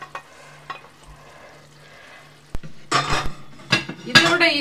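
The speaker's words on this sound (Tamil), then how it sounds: "அதில் அவ்வளோ முட்டையும் போட்டு விட்டுடலாம்." Eggs poured into a hot pan and stirred, a faint hum giving way to sudden loud sizzling with clattering scrapes of a spoon against the pan, close up, no talking.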